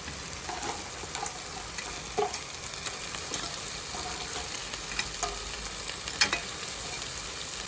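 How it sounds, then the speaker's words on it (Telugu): Crab pieces frying in a tomato masala gravy for a Telugu-style crab curry, a close, steady crackling sizzle with scattered clinks and scrapes of stirring, no voices. "టమాటాలు కూడా ఇలా మగ్గిన తర్వాత మనం నీట్గా కట్ చేసుకున్న ఈ పీతలు వేసుకోవాలి"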